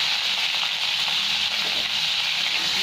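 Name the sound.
potatoes and pointed gourd (potol) frying in a pan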